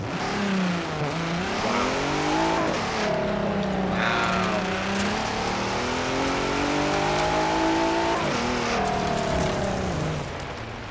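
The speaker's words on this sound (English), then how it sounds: "So let's take this car off-road, because this is, after all, an off-roader." A 2020 Hennessy Velociraptor pickup drives off-road at night, its engine loud and close, revving up and easing off in repeated rising and falling sweeps over a constant rumble.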